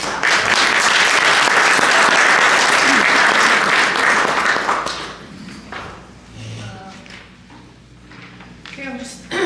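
An audience at a Rotary Club meeting claps loudly for about five seconds, then the applause fades to scattered claps and light room noise while a voice speaks.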